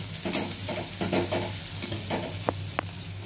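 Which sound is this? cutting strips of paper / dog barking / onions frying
onions frying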